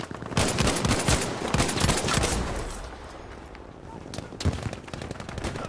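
Automatic weapon fire in a Battlefield 5 match: dense rapid bursts of gunshots, loud and close, easing slightly midway before another volley, with faint voice chat underneath.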